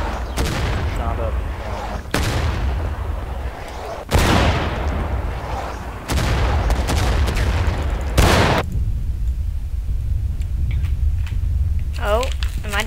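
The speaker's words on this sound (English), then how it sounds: "He's firing on the bridge." Musket volleys in the Civil War video game War of Rights, several loud booming shots spaced about two seconds apart, each ringing out into a long echoing tail, with voices talking over the fighting.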